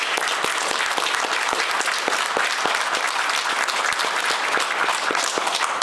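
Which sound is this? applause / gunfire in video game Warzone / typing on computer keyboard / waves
applause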